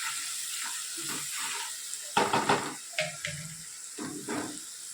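Spices with green chillies, red chilli powder, garam masala, asafoetida, turmeric and salt roasting in hot oil for sev tameta, a steady hiss with louder bursts of crackling midway, close and without talk.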